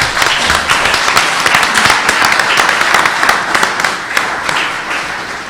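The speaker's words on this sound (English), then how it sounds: "Let's give them one final round of applause." A debate audience delivers a full, loud round of applause for the candidates, with dense continuous clapping from many hands that holds steady for several seconds before easing slightly at the end.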